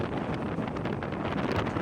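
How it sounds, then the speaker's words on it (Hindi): Cold wind blows steadily across open desert dunes in the Cholistan Desert on an overcast day, a continuous broadband rush buffeting the microphone with no pauses. "ठंडी हवा चल रही है,"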